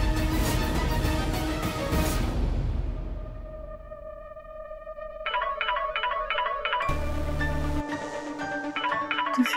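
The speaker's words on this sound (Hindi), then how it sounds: "दिव्यम जी का फोन" A synthetic ringtone melody chimes in repeated bursts after a loud musical passage fades, with the tune continuing steadily and clearly.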